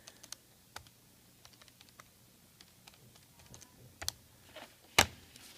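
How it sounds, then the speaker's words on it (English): Calculator keys tapped by hand in a quiet room during a chemistry calculation: sparse, irregular light clicks in short clusters, with one sharper tap near the end. "And now at this point, I just type this into my calculator."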